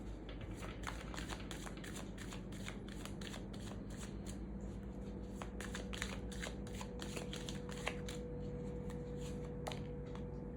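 Tarot cards being shuffled in a continuous run of quick papery riffles and flicks, steady and close, with a low hum underneath and no voices.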